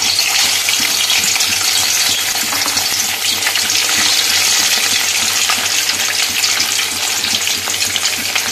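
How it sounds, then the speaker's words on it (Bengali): Roe-filled Padma hilsa fish, two pieces at a time, frying gently in oil over a low flame: a loud, dense, continuous crackling sizzle close up, with no talking throughout. "তো দুটো দুটো করে ভাজছি"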